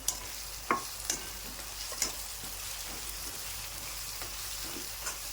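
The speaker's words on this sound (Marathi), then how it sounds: "आता आपण याच्यात टाकू कढीपत्ता" Steady crackling sizzle of curry leaves frying in hot oil with softened tomatoes, with a few sharp pops and clicks scattered throughout, close by and with no voices.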